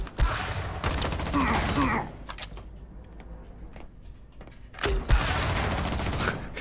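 In the XIII remake shooter, a grenade blast roars and rumbles for about a second, then a lull follows, and a second long burst of heavy gunfire and explosion noise erupts, loud and dense, with faint scattered clicks between.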